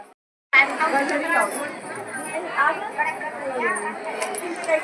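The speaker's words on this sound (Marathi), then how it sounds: "आता बाहेर हळदीची गर्दी झालेली आहे" A crowd of guests chatters outdoors at a haldi ceremony, a steady, busy wash of many overlapping voices that starts abruptly after a brief silence and holds close and moderately loud.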